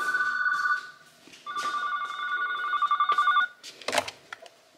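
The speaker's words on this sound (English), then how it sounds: "Oh wait, I'm getting a phone call." A telephone rings with a bright electronic tone, sounding twice in steady bursts before a brief clatter, fairly close with faint background noise.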